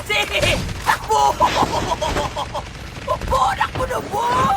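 Rapid bursts of gunfire in a shooting video game, crackling in repeated volleys across the moment, with excited players' shouting mixed in.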